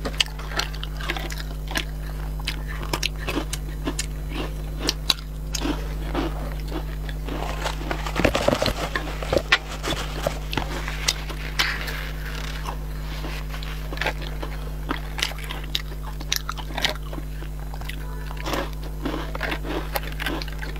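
Spicy food is bitten and chewed close to the mouth, with repeated small crunches and wet chewing clicks spread through the stretch, one denser burst midway, no talk.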